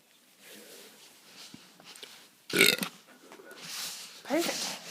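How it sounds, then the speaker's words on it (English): A few quiet, close burps come out amid soft breathing and faint talk, including one sharp louder belch in the middle and a shorter one near the end. "Now we're getting some burps in."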